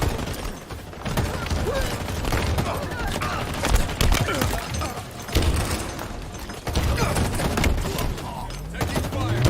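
Constant rattling gunfire and explosions from a video game battle, dense and loud throughout with frequent thumps and bursts layered together.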